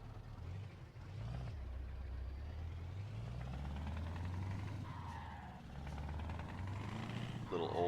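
An older Scania truck's engine in Euro Truck Simulator 2 drones steadily with a low rumble that rises and falls in pitch as it revs, continuous and fairly close throughout.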